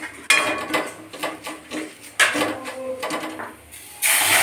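Whole tomatoes go into a cooking pot for tomato soup, giving a few sharp, close clatters and knocks of metal utensils against the pot with brief scraping between them.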